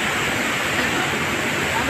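Swollen floodwater of the Marikina river rushing past in a dense, steady roar, loud and close, with no pause or change over the short stretch.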